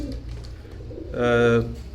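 A Royal pigeon from a slim-bodied pair gives a single short, throaty coo after a stretch of low background murmur, close and clear, with someone talking nearby.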